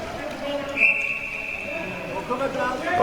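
A referee's whistle at an ice hockey game between Peterborough Phantoms and Manchester Mayhem gives one sustained high blast that trails off, heard over arena crowd noise and commentary talk.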